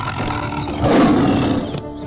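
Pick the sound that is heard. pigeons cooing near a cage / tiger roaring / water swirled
tiger roaring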